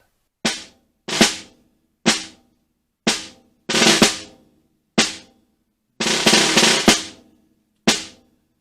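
Slow, isolated drum ruffs on a snare: crisp strikes spaced about a second apart, some with short rolled grace notes leading into the accent.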